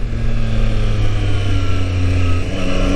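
Triumph Street Triple RS three-cylinder engine pulls steadily on a tight, winding mountain pass, a loud continuous drone that holds a fairly even pitch throughout, with wind rush layered over it.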